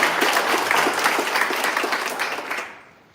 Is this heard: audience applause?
yes